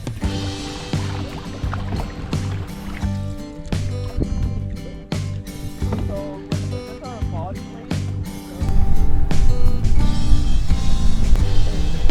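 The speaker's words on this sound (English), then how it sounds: "we're paddling the Stikine" Canoe paddling on the wild Stikine River, with watery paddle strokes and splashes over steady river flow, close by, under intermittent voices and shouts, the water growing louder toward the end.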